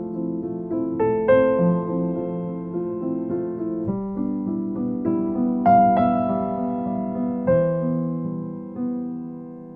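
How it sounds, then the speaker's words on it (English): Piano playing the last four bars of the melody, a slow, gentle line of single notes over sustained lower tones, alone and at moderate volume. "So if I take the last four bars of that melody, that whole structure, that section right there, it's going to sound like this."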